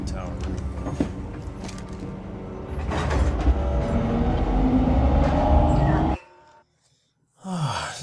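Rumbling, rattling ride aboard a small tram car in the sci-fi survival horror game Alien: Isolation, loud and steady for about six seconds, then cutting to near silence before a brief mechanical whir returns at the end.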